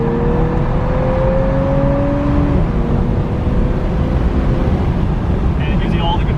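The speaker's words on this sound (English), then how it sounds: "when you go lower gear, it's nice for taking off a little bit faster, so you can get higher revs, more power to the car" A car engine pulling in a lower gear, a steady loud drone with rising engine tones under ongoing cabin noise, easing off partway through.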